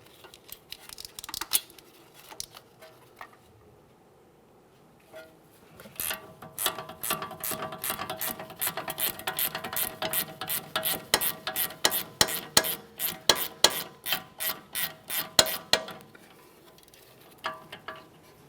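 An 18mm ratcheting wrench works loose the sway bar link nut on a 2017-2024 GMC Acadia. After some sparse clicks it settles into a long, steady run of close, loud ratchet clicks, then a few last ones.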